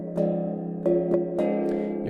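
A gong machine pattern built on a mallet hit bell with a longer release gives a steady ringing tone, struck again in a few clear rhythmic accents whose tails blur into each other.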